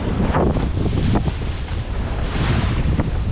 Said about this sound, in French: il y a une petite vingtaine de nœuds de vent. Bon, il y a toujours autant de mer par contre.